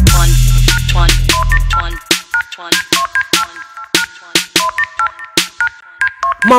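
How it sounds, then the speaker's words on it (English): A mobile phone ringtone plays in a hip hop track, a loud repeating electronic melody of sharp bright chirping notes in a quick rhythm after a short bass-heavy opening. "My metro phone ringing off the hook"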